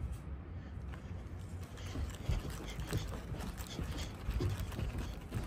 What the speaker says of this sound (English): Go, horsey, giddy up.